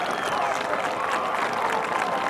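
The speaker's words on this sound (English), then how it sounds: "the East Brunswick crowd, ladies and gentlemen, are standing and cheering their team" A high school football crowd at an East Brunswick versus JP Stevens game stands and cheers, a steady broad roar of applause and voices filling the whole stretch without pause.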